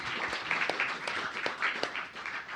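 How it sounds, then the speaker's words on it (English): Applause from a small audience at a live talk with concert promoters, fairly faint steady clapping with a few sharper individual claps standing out. "That deserves applause."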